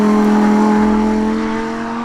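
Lamborghini Huracan STO engine, a loud close droning tone holding steady and then easing slightly as it drops in pitch, alone without voices.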